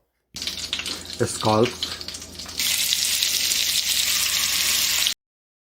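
Scallops sear in butter and olive oil, first with a busy clatter and brief voiced sounds, then a loud, steady hiss of frying that holds evenly until it ends abruptly.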